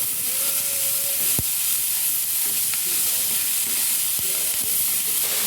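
Vegetables sizzling in a hot pan as they wilt briefly, a steady close hiss with a few sharp crackles and clicks, no talking.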